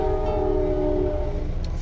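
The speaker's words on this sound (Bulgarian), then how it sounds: "Още не съм излезъл от компанията и веднага влакче." A Metra commuter train in Franklin Park near Chicago passes a car at a crossing, its horn blaring as a loud sustained harmonic tone over a rumbling low drone, close and with no talk.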